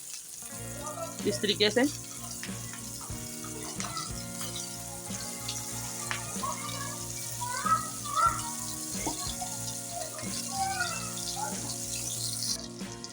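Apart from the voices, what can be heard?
shami tikkis frying in hot ghee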